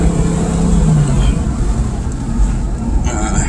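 An Audi S4 project car on its factory exhaust runs at a steady idle, a low, constant rumble that stays close and unchanged throughout, with no talking.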